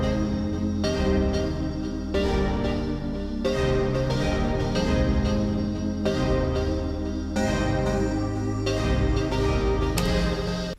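Layered synth pad, keys and stab chords loop together in a dense hip-hop beat, playing steadily and loudly throughout with rhythmic chord hits and no drums or voices.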